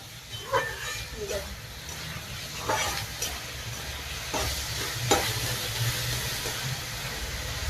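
Oil tempering (phodni) for poha crackles and hisses in a pan on a gas stove while a spoon stirs and scrapes through it, with a steady sizzle and occasional clinks, mid-close and moderately loud.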